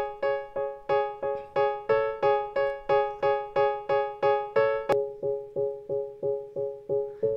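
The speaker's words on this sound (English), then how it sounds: "So I've added a low pass filter onto there." Piano with a low-pass EQ filter plays a steady, evenly spaced run of repeated chords, about two per second, with a softened, muffled top end and no talking.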